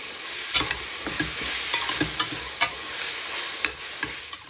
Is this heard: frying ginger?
yes